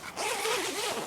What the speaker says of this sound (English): Just unhook the elastic tension strap and simply zip the panel